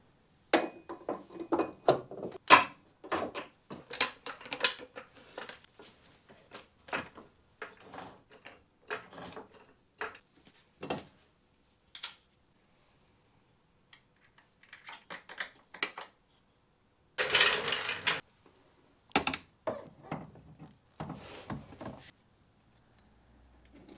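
Tools and metal parts clink and clatter while coilover suspension is fitted and bolted onto a Mazda MX5 Miata in a turbo build: scattered knocks and rattles in bursts, with a louder cluster of clanks near the end and no talking.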